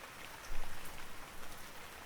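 Steady rain storm in a Roblox apocalypse survival game, a soft, even hiss of rainfall with a brief swell early on, heard alone without talk.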